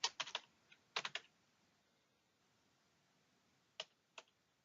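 Computer keyboard keys tapped in short bursts while an email address is entered, a quick cluster of clicks at the start, another around one second, then two isolated taps near the end, with quiet pauses between.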